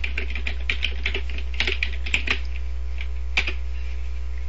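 Rapid typing on a computer keyboard, a steady run of close, crisp key clicks with a few louder strikes, over a constant low electrical hum.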